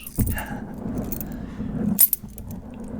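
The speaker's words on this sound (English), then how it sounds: "I bet this looks cool if you dangle the keys in front of this" Keys jangling as they are dangled, soft metallic clinks and rattles scattered through the moment with a brighter cluster of jingles near the end, close and intimate in a quiet room.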